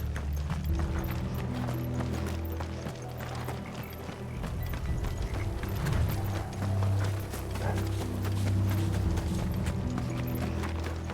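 Horses' hooves clip-clop in Final Fantasy XVI, a brisk, continuous patter of hoofbeats near at hand over low rumbling game music, with an occasional whinny.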